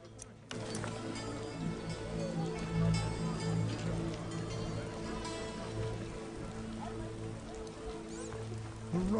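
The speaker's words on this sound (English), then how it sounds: "Some serious rain. What a downpour!" Heavy rain pours down in The Witcher video game, a steady close hiss with faint ticking drops over a low game ambience and music hum, continuous for the whole stretch.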